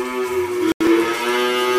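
A single cow lows steadily in a cattle pen holding mixed-breed calves and young bulls, including Limousin and Simmental, loud and close, with a brief dropout midway.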